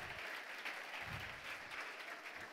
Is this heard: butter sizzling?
no